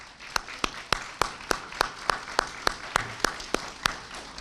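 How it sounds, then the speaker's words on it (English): Audience at a Wayne County gathering clapping in unison, a steady rhythmic beat of sharp claps at an even pace, roughly three per second, over a faint background of room noise. "let's clap our hands for what Wayne County has done"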